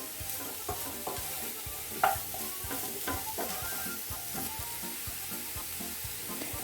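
Zucchini or marrow frying in a pan with carrots for a vegetable spread, a steady close sizzle under rhythmic scraping and clacking as the pieces are stirred, with one sharper knock partway through.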